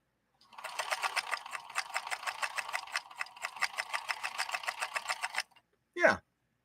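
A 1958 Singer 222K sewing machine stitches full grain leather in a rapid, rhythmic run of close needle strokes lasting about five seconds, then stops, followed by a short thud.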